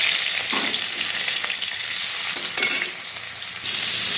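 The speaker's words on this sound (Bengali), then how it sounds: "এবারে চিংড়িটা ভেজে নেব।" Prawns fry in hot oil in a wok, giving a steady, close sizzle with brief flare-ups of crackle and no voices.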